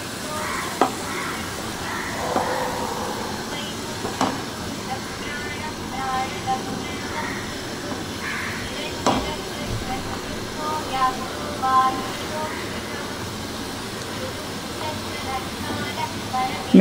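A spoon stirs Puliyodare tamarind mix into boiling water in a pot, with soft scrapes and bubbling under steady talk and a few sharp knocks.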